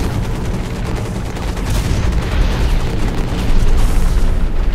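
A frag grenade blast in the Hawken mech combat game lands amid dense, loud, continuous roaring gunfire and explosion noise that swells slightly over a few seconds, with no clear single isolated boom.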